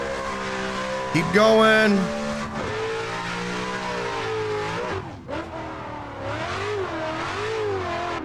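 Simulated car engine in Assetto Corsa revving and droning steadily while drifting, with a brief louder howl and possible tire squeal early on, under someone talking throughout.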